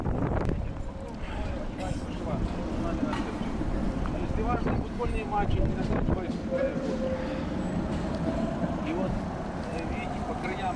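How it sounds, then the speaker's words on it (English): Steady, heavy wind buffeting the microphone at Rynok Square in Lviv, Ukraine, a continuous low rumbling roar with gusty surges, and a voice speaking underneath. "My God, it's windy."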